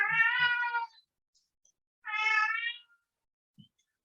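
A cat meows twice, two clear, fairly close calls about a second apart, with short quiet gaps and a faint soft thump near the end; no talking.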